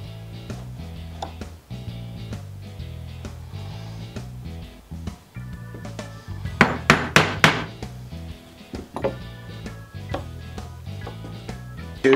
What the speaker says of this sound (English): your chisel is cutting where it needs to be